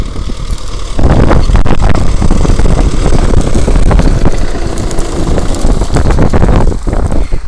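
A loud tractor engine rumbles steadily close by, its low drone swelling and holding for several seconds amid wind noise, on a field being sown with winter wheat.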